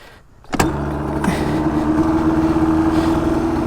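An old two-stroke engine fires up abruptly after a quiet moment, then settles into a loud, steady buzzing idle with a rough droning tone.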